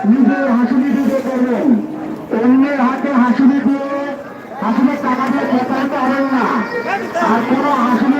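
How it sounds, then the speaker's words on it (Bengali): Cattle moo repeatedly at Hazratpur cattle market before the Eid sacrifice, with long, loud, drawn-out lows one after another. A busy crowd chatters and people talk throughout. "আমরা অবস্থান করতেছি হজরতপুর গরুর হাটে"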